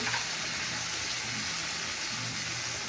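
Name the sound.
water poured into a hot cooking pan, sizzling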